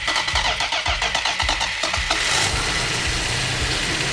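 A 440 Magnum V8 with a double-pumper carburetor cranks over in rhythmic starter pulses, then catches and settles into a loud, rough, steady idle, close by.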